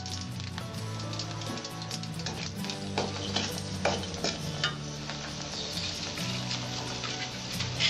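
Dried red chillies fry in a tablespoon of hot mustard oil in a pan, giving a steady, dense sizzle with crackling pops and the scrape of stirring throughout.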